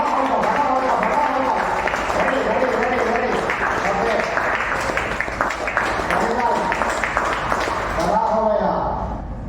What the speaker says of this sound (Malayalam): നിങ്ങൾ എല്ലാവരും ഒന്ന് കൈയടിക്കണം